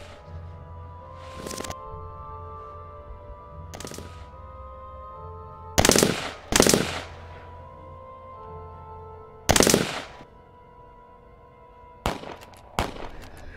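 Gunfire in a short film rings out as sharp, loud single shots and quick pairs at irregular intervals, each cutting through a quiet, humming background.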